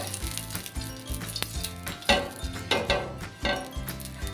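Oil spreading in a frying pan gives off a light sizzle, broken up by rhythmic scraping and clinking of a utensil against the pan, close and moderately loud.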